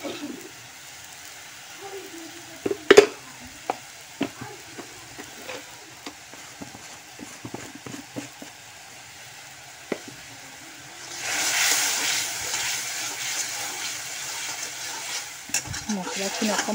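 Spices and salt sizzle and fry in a pan while a spoon stirs them, giving scattered scraping clicks over a steady hiss that swells louder near the end.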